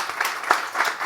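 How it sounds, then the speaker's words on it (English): An audience at a telecom industry talk gives a short, moderately loud burst of applause, a soft rippling patter of many hands clapping that swells and fades over about a second. "Could we give Glenn Richards an applause here"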